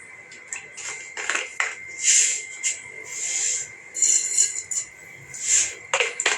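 Mustard seeds and green chillies hitting hot oil in a pan while cooking rava khichadi, giving bursts of crackling, sizzling and spattering that rise and fall across the clip.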